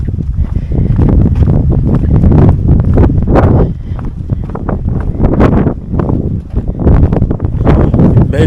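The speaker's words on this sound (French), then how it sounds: "Oh, le vent se lève." Wind rises along a hiking trail during a long ultra-distance trek, buffeting the microphone with loud, steady, gusting roar for the whole stretch.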